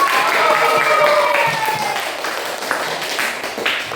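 A classroom of students claps for a student group during a teaching session, brief, moderately close applause that begins strong and tapers off over a few seconds.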